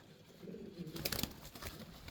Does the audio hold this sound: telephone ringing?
no